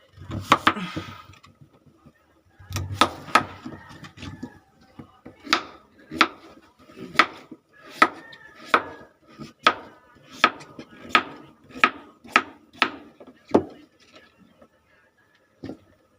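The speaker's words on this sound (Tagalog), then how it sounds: "iwain lang po natin ng maliliit para bilis maluto" Knife chopping peeled pork into small pieces on a board: a steady series of sharp, close chops in even rhythm, with a few irregular knocks at the start and brief pauses between bursts.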